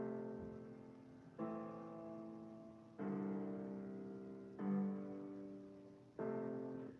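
Four sustained electric piano chords, each struck and left to ring and fade before the next, quiet and clean with no other sounds.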